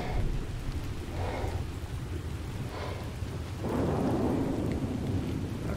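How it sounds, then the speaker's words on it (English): Deep rolling thunder from a storm in the game Ark Survival Ascended rumbles in several waves over a steady wash of rain, the last roll swelling loudest. "Of course, we got a storm going on."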